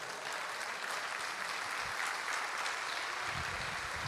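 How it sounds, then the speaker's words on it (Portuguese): A church congregation applauds with joy, a broad, continuous wash of clapping heard at a distance and fairly quiet, sustained without a break for about four seconds. "Aplauda Ele com alegria"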